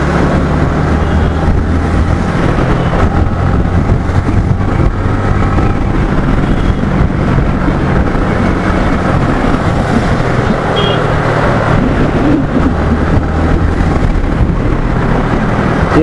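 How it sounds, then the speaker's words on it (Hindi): Strong wind buffets a motorbike rider on a long flyover, a constant loud rush of wind and road noise with no letup, close to the microphone. "ये फ्लाईओवर में आते ही मतलब लगता है कि हवा बहुत तेज चल रहा है, विंड ब्लास्ट काफी ज्यादा आने लगता है"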